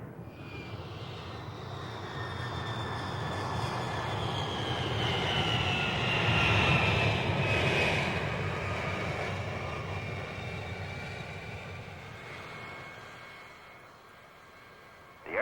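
Boeing airliner on a test flight climbing past 8,700 feet, its engines producing a steady, loud cabin drone with a high whine that swells toward the middle and eases off near the end.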